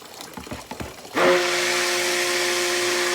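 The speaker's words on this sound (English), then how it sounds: "I just take my stick blender, just run it in that soapy water" A stick blender switches on at about a second in and runs with a loud, steady motor whine as it churns through soapy water, after some softer handling clatter before it starts.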